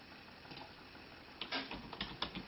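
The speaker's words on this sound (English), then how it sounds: "Yep, keyboard is working, no problem." Keys on a computer keyboard hooked up to an Android TV box are tapped in a short irregular run of clicks, moderately close, over a steady background hiss with no talking.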